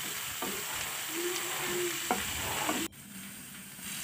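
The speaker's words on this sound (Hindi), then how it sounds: "इसके बाद हम अदरक लहसुन का पेस्ट डाल लेते हैं" Ginger garlic paste frying in a pan for paneer masala gravy, a steady close sizzle with a few spoon stirs and scrapes against the pan, no voices.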